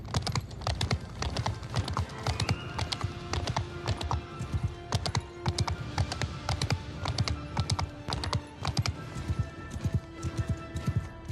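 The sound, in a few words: horse hooves clip-clop in Old World mod video game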